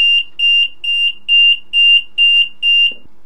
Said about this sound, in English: There is still voltage there. That's why it's beeping.